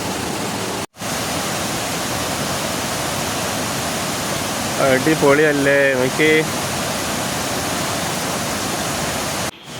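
A waterfall beside a hanging footbridge pours in a constant broadband roar, its flow reduced after two days of little rain. A voice speaks briefly over the steady rush.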